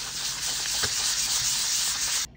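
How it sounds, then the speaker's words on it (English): Steady abrasive rubbing, a continuous hissing scrape of wet and dry sandpaper on a costume armour belt piece before painting, close and even, ending abruptly. "now I start the procedure for painting, which is sanding with wet and dry"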